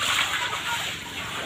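Floodwater sloshes and splashes steadily inside a flooded house, a continuous wet wash close by, with a voice faintly underneath.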